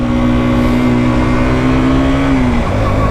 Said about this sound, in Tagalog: First ride sa KTM RC200